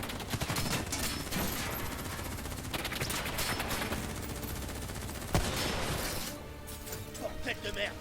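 Heavy gunfire during a Black Ops 3 campaign mission, a dense continuous barrage of close shots and explosive cracks with one sharp impact, while voices speak in French amid the chaos.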